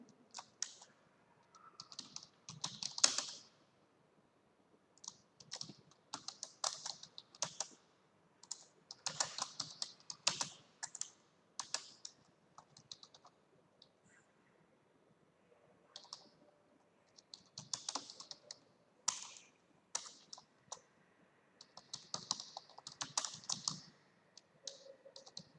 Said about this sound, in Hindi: अब यहाँ कुछ मैटर टाइप कर देता हूँ